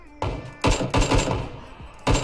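Gunfire in the video game PUBG: a handful of loud, heavy bursts of shots with short gaps between them, close and booming with no voices heard.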